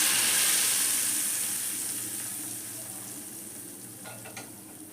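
Hot tempering of chana dal poured into cucumber tambuli, a steady close hissing sizzle that slowly fades over several seconds, with a few faint clinks near the end.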